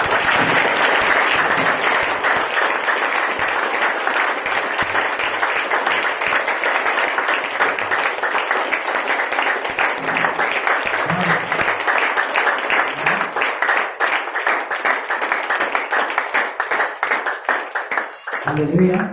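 A church congregation, standing at a Hindi sermon, breaks into sustained loud applause and clapping, a dense continuous roar of hands lasting many seconds before tapering at the end.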